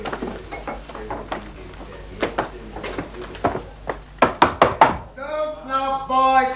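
A series of sharp knocks on a door, first a scattered run of raps and then a tighter, louder cluster, followed by a sustained tonal sound in a quiet room.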